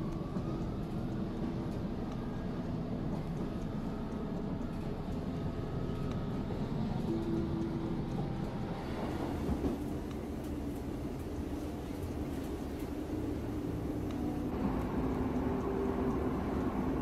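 A passing train rumbles steadily as a low, continuous drone with faint tonal hums rising and falling, moderately distant and unbroken for the whole stretch, with no talk over it.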